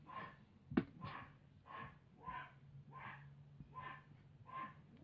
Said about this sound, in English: apologies if you can hear my dogs barking.